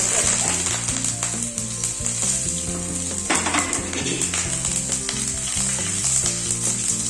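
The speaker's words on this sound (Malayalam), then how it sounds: "ആദ്യം കടുക് ഒന്ന് പൊട്ടി വരട്ടെ" Half a teaspoon of mustard seeds splutter and pop in hot oil while tempering for Tamil-style podi idli, a steady close sizzle with scattered crackles over background music.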